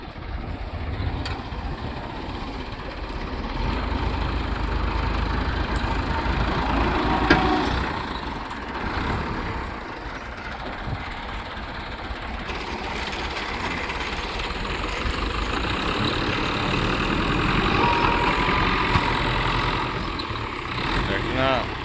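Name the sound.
modified tractor engine running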